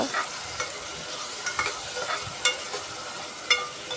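Chopped onions for a prawn curry sizzle in hot oil in a pan, with a steady hiss broken by several sharp scraping stirs, heard close with no talking.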